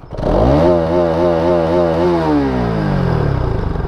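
A Bajaj Pulsar NS200 motorcycle engine revs up hard and close. It holds a loud, rising and falling wail with a wavering pitch for several seconds, then the revs ease back down near the end. No one speaks over it.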